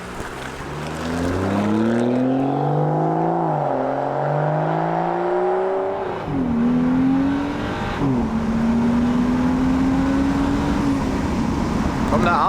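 A BMW F30 335i with the N55 engine revs up through gears, exhaust rising in pitch with brief dips at the shifts, then holding a steady drone, loud and close with talk over it.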